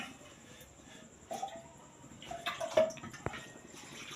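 Water is poured into a pot to cook Maggi noodles in a home kitchen, heard as short, faint splashing bursts with a brief louder gush near the end.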